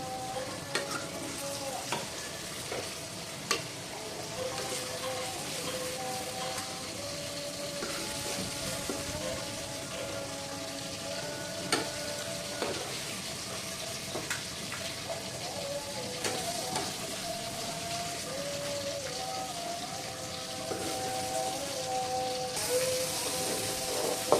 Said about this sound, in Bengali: তেলে ফ্রাই করে নিচ্ছি হালকা